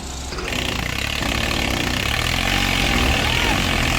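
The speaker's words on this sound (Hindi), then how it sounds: "भाई पूरी रेस दे दी ट्रैक्टर में" A New Holland tractor stuck in a muddy village field revs its engine hard, the diesel note rising quickly from a lower idle into a loud, sustained roar, with voices faintly underneath.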